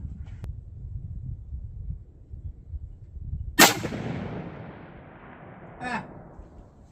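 A single sharp, loud crack from a first-generation Savage Axis rifle in 6.5 Creedmoor stands out over low outdoor rumble, followed by a faint ring or echo a couple of seconds later.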